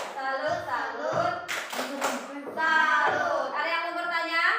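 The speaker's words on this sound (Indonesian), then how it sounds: "Tepuk salut." Children in a classroom perform a rhythmic salute clap, chanting together in loud unison between short bursts of hand clapping.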